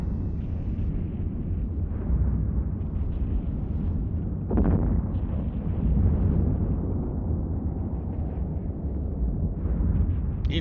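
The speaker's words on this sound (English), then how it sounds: "You can tell when those missiles hit" Missile impacts in the space game EVE Online burst as deep, rumbling explosions over a constant low roar, with one sharper blast around the middle of the clip.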